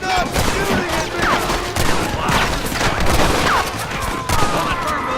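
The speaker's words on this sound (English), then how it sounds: "Stop shooting at me!" Dense gunfire rolls through a Red Dead Redemption shootout on Xbox 360, with overlapping shots, booms and ricochet whistles in a loud continuous barrage.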